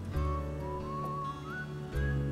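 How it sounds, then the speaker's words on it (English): Whistle sound in the video game Wild Arms 3: a thin, wavering tone that slowly rises in pitch over about two seconds, layered on sustained game music. "But it's just a whistle right now."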